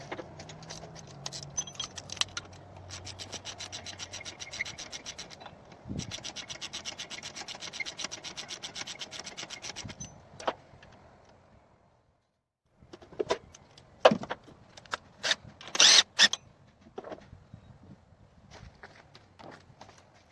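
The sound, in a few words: loosening tensioner bolts on a 2006 Subaru Impreza wagon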